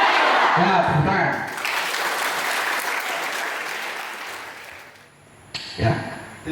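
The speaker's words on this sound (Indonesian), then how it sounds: "Ya, tepuk tangan." A Catholic youth catechesis group in a parish breaks into applause, a full burst of clapping that thins and fades out, followed by a speaking voice.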